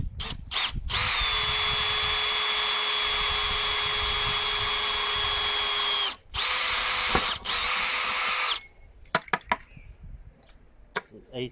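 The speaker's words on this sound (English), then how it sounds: "We'll just drill it from that side because that's the centre." A power drill whines steadily for several seconds, briefly pauses and resumes, followed by scattered clicks and knocks as it stops, drilling through the centre from one side.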